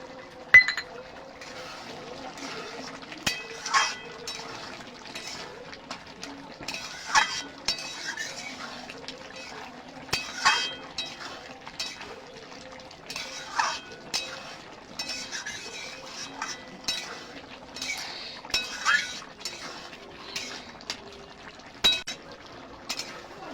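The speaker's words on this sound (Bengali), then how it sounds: "ভাজা জিরে গরম মশলা দিয়ে একটু নাড়াচাড়া করে দিয়ে এবার আমি নামিয়ে দেবো।" Roasted ground cumin and garam masala stirred in a kadai, with a spoon giving repeated light clinks and scrapes against the metal in an irregular rhythm, soft and close.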